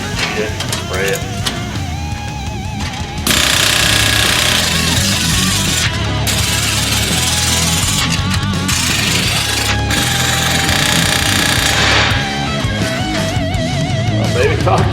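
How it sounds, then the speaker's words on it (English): A pneumatic air hammer rattles loudly and rapidly in long sustained bursts, with brief pauses between runs, over steady background machinery noise and some talk. "It's time to get a bigger air hammer."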